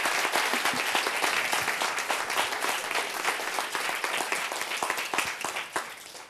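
Sustained audience applause from a crowd at a talk, dense steady clapping filling the whole stretch with no voices.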